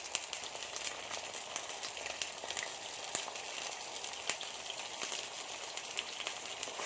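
Onions lightly salted and sautéed in a pan, giving a steady crackling sizzle with scattered sharp pops, close and continuous with no talk.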